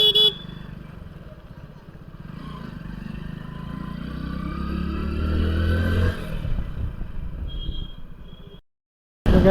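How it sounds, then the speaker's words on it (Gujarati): A motorcycle rides along a city bypass road with a steady engine drone that swells and then fades, with faint horn toots and traffic around. The sound ends in a brief silence. "બાઇક સનસનાટ જાય છે"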